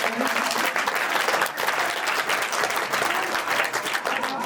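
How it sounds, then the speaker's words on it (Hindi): A school farewell audience gives a guest a warm welcome with dense, continuous applause from many hands, steady and loud throughout with no pauses. "मैं चाहता हूँ आप सभी ताली बजा करके उनका"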